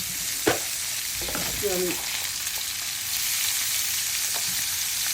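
Fish frying in hot oil with raw onion tossed in, a steady close sizzle throughout with a few brief stirring clatters and a short faint voice near the start.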